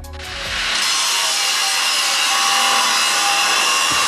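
A hand saw cuts steadily through wood in a woodworking workshop, a continuous rasping stroke noise that stays loud and close throughout, with no talking.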